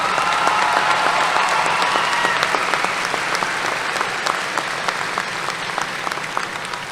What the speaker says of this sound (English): Let's give these Tigers, their teachers, and support staff a round of applause.